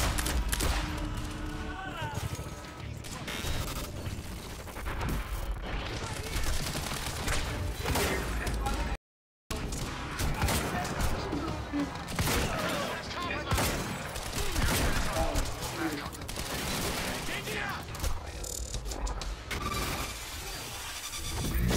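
Semi-automatic gunfire in the video game Quantum Break comes as repeated sharp shots amid busy combat noise across the whole stretch, broken by one brief gap of silence, with a voice speaking intermittently over it.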